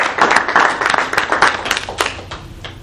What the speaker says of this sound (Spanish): Un aplauso para Claudio